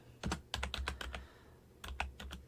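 Keys clacking on a new computer keyboard in short bursts of quick taps with a pause between, close and fairly quiet, no talking.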